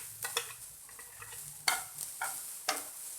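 Capsicum and onion fry in butter over a medium gas flame, a soft sizzle broken by several sharp scraping stirs of a spatula, close and fairly quiet, with no talking.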